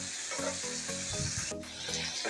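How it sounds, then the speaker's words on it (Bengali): Spice paste with chili and coriander powder frying in hot oil, a continuous dense sizzle with brief stirring scrapes, close and steady, no talk. "দিয়ে এখন মশলাটা আমি ভালো করে কষিয়ে নেব।"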